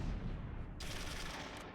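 Mortar fire in the video game Close Combat 3: a brief, loud wash of rumbling battle noise with rattling gunfire, close and continuous throughout.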